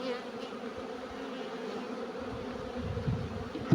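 Steady buzzing of bees around an open beehive during cleaning on a hot day, a dense close hum that holds level throughout with no voices.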